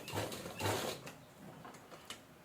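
A sewing machine stitches blouse fabric laid onto pant fabric for a fabric toran, giving two louder mechanical bursts of whirring needle action, then quieter intermittent clicks and rattles, close and alone.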